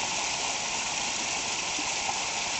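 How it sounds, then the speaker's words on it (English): Small waterfall at Plotterkill Nature Preserve spilling into a pool, a steady, even rushing and splashing wash of water heard up close, with no voices. "this is like a tiny waterfall"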